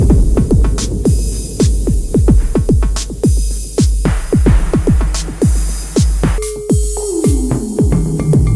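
Roland TR-8 drum machine firing loud, punchy kick drums in a steady rhythm with reverb tails, later joined by a sustained tone with a falling pitch sweep, up close with no voices.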